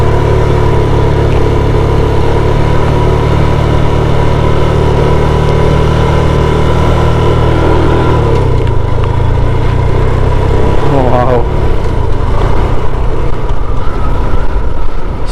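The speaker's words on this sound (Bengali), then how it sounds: "ইঞ্জিন ব্রেকে দিয়ে দিছি, এক গিয়ারে দিয়ে।" A motorcycle engine-braking downhill in first gear on steep mountain roads in Bandarban: a steady, close, low engine drone holds throughout, with a slight shift in tone about halfway.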